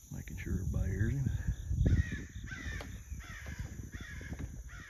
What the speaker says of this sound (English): Got an old crow coming across the lake, making sure everybody hears him.